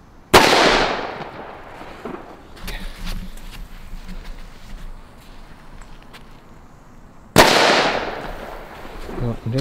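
Two loud, sharp DUM BUM 120dB firecracker blasts, Czech-made P1 bangers, each a sudden explosion with a long crackling echo decaying behind it, spaced several seconds apart outdoors with faint rustling between.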